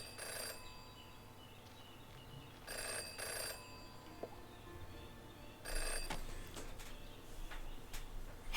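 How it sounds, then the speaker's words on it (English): A telephone in the video game Jenny LeClue rings in repeated short bursts, fairly faint over a quiet background with soft ticks and chirps. "Jenny had learned never to ignore a ringing phone."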